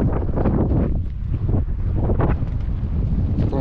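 Wind buffets the microphone on a bicycle trip through southwestern Algeria, a loud continuous low roar with gusty surges and no clear speech.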